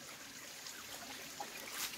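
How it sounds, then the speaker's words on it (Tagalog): Water trickles steadily from a hillside spring into a well on a farm, a soft continuous dribble heard alone at low level with a slight surge near the end. "dinivert natin itong mga tumutulong tubig dito sa gilid ng bangin. Pinapunta natin dito sa ating balon."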